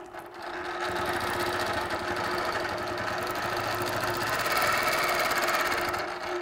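A sewing machine hums continuously and evenly while stitching quilting lines along a template, with a close, steady motor drone and rapid needle rhythm throughout.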